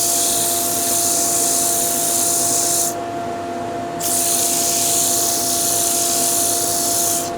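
A wood lathe spins while a patio skittle is sanded, giving a loud, steady whirring hiss with a constant tone; the sanding hiss drops out for about a second midway, then resumes.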